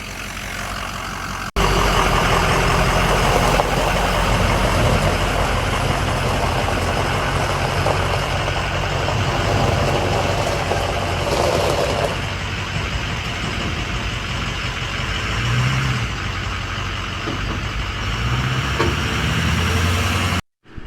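A Ford 6.0 Powerstroke diesel truck with a slight misfire driving along, its loud engine drone and road rumble steady and close throughout, cutting off abruptly at the end.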